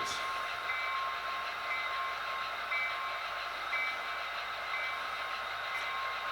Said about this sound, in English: We have the train arriving with its cargo of containers.